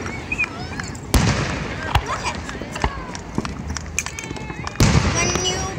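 Fourth of July fireworks burst repeatedly, with sharp loud bangs and crackling pops at irregular intervals, some near and some farther off, over a background of crowd noise.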